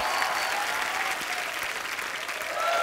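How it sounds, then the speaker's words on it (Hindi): A studio audience at a comedy talk show breaks into strong, steady applause, a dense wash of clapping that holds for a few seconds. "आप सबकी जोरदार तालियों के बीच प्लीज वेलकम"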